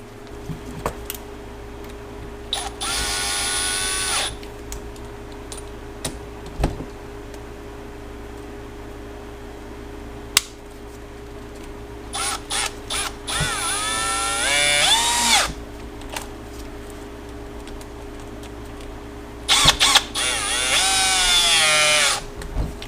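An air tool is used during a starter rebuild on a 2009 Harley-Davidson Road Glide motorcycle. Three separate high-pitched pneumatic whirring bursts, each a few seconds long, close and loud, with quiet gaps and faint clicks between them.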